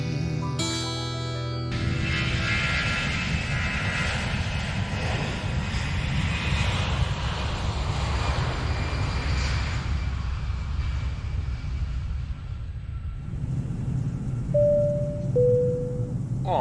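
A steady engine drone fills an airliner cabin at night, broad and continuous beneath a short musical burst at the start and a two-tone chime near the end.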